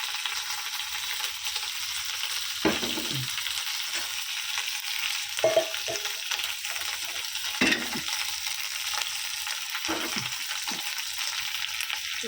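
Curry leaves, garlic and ginger fry in a pan, a steady close hiss of sizzling oil broken by a few brief stirring scrapes and louder crackles, with no talking.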